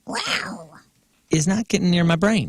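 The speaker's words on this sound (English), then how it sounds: "That was a cat." A cat meows in a short, whiny cry, followed by people talking loudly over and after it.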